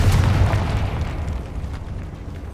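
A Confringo spell explosion in Hogwarts Legacy lands as a loud, deep booming blast at the start, then fades into a rumbling tail that trails off over a couple of seconds.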